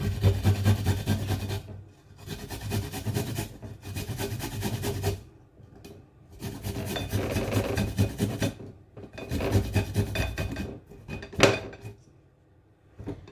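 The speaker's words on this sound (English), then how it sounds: "So now I will now grate my garlic." Garlic is rubbed against a grater in several long raspy bursts of quick scraping strokes, separated by short pauses, close and fairly clear.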